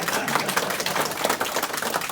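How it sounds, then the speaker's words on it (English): A modest ripple of applause from an audience at a retro gaming event panel, scattered quick claps pattering close and continuously for a couple of seconds. "Ripple of applause."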